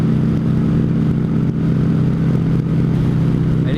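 A motorcycle on the road, its engine droning loudly and steadily from close by as it rides, with a constant low rumble throughout and no pauses.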